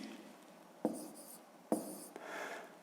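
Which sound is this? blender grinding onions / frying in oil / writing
writing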